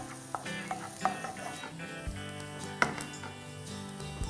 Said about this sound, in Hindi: इसमें हम डालेंगे chopped onions, just a little, lightly sauté the onions